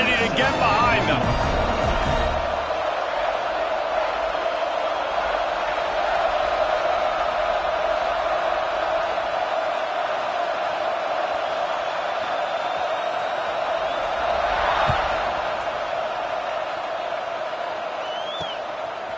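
Large football stadium crowd at kickoff in a game against Penn State, a steady loud roar filling the whole stretch with a brief swell near the middle, heard under continuous commentary.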